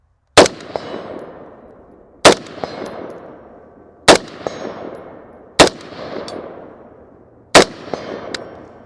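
Manticore Arms CETME LC rifle fired at steel targets on a shooting range: five loud, sharp gunshots spaced about two seconds apart, each followed by a ringing metallic clang and a fading decay.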